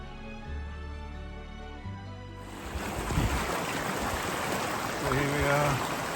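Water from a small beach stream flowing across sand fills the second half with a steady rushing wash, following quieter tonal sound at the start.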